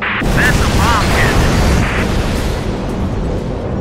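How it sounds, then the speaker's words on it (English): A bomb strikes its target in the flight combat game Air Conflicts, a loud, broad rumbling blast that fills the short clip and slowly fades, with brief whistling tones near the start. "Bombs away. That's a bomb hit."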